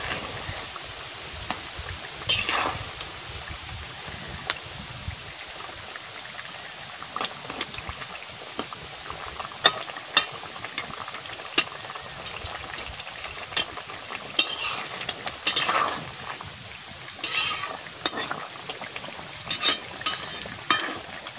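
Potatoes being mashed into a simmering fish curry with radish, stirred with scrapes and soft thuds against the pan over a gentle bubbling sizzle, intermittent and close, with no talking.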